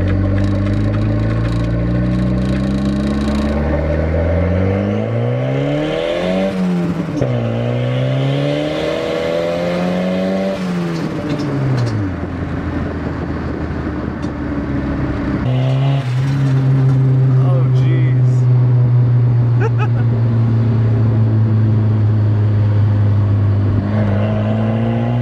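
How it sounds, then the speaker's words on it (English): A big-turbo drift car fitted with a side-exit pipe and no exhaust underneath roars loudly and close, its engine note sweeping up and down through repeated revs and shifts with sharp turbo barks. "That turbo bark is so loud."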